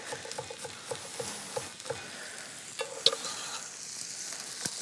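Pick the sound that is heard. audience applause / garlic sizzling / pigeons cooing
garlic sizzling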